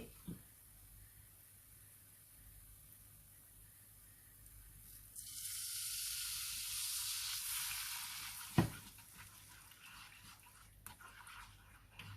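Thai curry paste hits hot oil for a coconut-milk mushroom curry, bursting into a sudden hissing sizzle that swells for a few seconds before easing, with a sharp clatter near the end.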